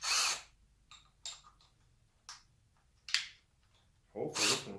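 A power drill with drill bits and paddle bits bores shallow holes into a wooden cabinet board in short separate bursts, the first and last longer, with quiet pauses between.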